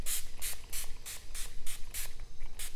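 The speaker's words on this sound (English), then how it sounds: "So then you spray this on." A pump spray bottle of balancing chemical peel neutralizer misted onto the face during an at-home glycolic acid peel, eight or so quick hissing pumps in a steady rhythm, close and clear.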